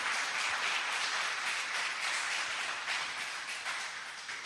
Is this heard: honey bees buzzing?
no